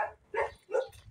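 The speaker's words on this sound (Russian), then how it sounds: "Это собака лает" A dog barks three times outdoors in a city, short yappy calls in a steady rhythm at moderate distance.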